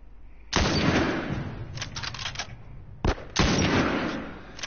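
Gunfire in The Last of Us: two close bursts of loud rapid shots, the first longer and rattling, the second following after a short pause, with no talk.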